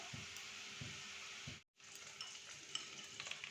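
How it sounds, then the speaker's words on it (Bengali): Cumin seeds and bay leaf sizzle in hot mustard oil in a pan, a steady close hiss with faint crackles that cuts out for a split second before resuming. "তো 2 চামচ মতো সর্ষের তেল দিলাম। দেবো একটু জিরে ফোড়ন,"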